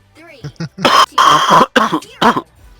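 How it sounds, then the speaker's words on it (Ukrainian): A man coughs repeatedly in close, loud bursts, several harsh hacks and throat-clearing sounds in quick succession, with some vocal sounds between them. "я кашлю"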